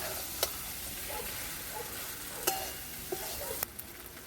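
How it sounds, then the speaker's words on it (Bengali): Green jackfruit and potato pieces fry in spiced masala with a soft, steady sizzle, while occasional sharp spatula clinks against the pan punctuate the quiet hiss. "আবারও আমি মশলার উপরে এঁচোড় আলু দিয়ে খুব সুন্দর করে কষে নেব।"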